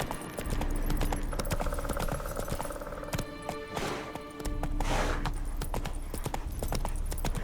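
Geralt's horse Roach gallops in The Witcher 3: Wild Hunt on PS5, a rapid, continuous drumming of hooves close and loud, with rustling and gear noise.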